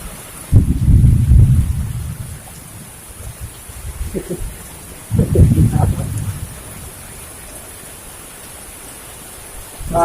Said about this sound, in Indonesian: Gila hujan-hujan gini.